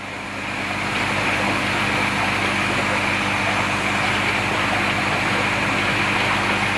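A Mk2 fines filter cuts in and runs, giving a steady, loud hum with a broad hiss that swells over the first second and then holds constant, with no talking.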